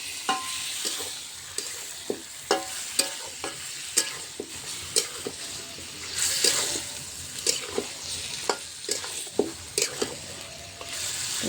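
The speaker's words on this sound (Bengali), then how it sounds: "ভালো করে কষিয়ে নেব" Meat sautés in a pan with ground-spice water, a continuous sizzle and bubbling broken by regular scraping clacks of a stirring spoon against the pan.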